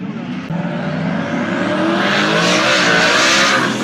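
A Ford Mustang race car roars past in a near miss, its loud engine rising to a harsh snarl with a hint of tire scrub in one quick, close surge.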